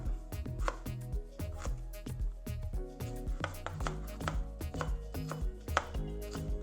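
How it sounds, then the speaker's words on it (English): A knife chops a small piece of fresh ginger on a board, a close, steady run of crisp, evenly spaced cuts with no talking. "Stack them and chop the ginger up."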